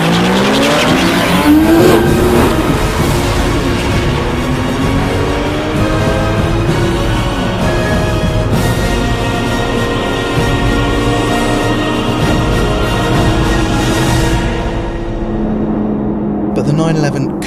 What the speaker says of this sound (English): One proper burnout, a few more revs for the launch, and maybe it could finally overhaul the Carrera.